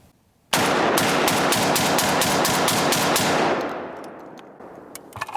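Derya DY12Y shotgun firing Winchester Super Target shells, about a dozen loud, sharp blasts in quick, fairly even succession, then a decaying echo and a couple of faint clicks.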